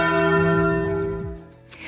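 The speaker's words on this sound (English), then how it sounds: "the Vatican bells ring out in celebration this Jubilee year" Large Vatican church bells ringing in celebration, with rich sustained tones, strikes overlapping and slowly fading, loud and resonant.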